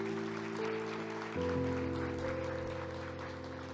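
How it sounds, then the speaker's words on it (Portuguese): Congregation applause during a church service, clapping spread under sustained organ or keyboard chords, steady and moderately distant throughout. "Então, aplauda Ele, porque você precisa corresponder."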